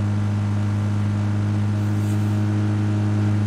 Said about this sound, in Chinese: 车声有点大。